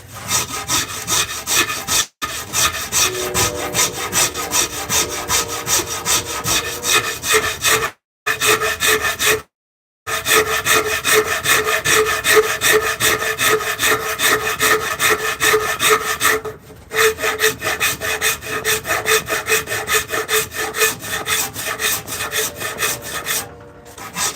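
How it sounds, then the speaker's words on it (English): Shinto rasp shaping a wooden spoon blank, loud steady rhythmic scraping strokes up close with a few short pauses. "it's called a Shinto rasp"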